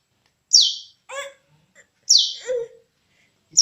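Two bursts of bird chirping, each a bright high chirp followed by a lower trilling call, close and clear against an otherwise quiet background.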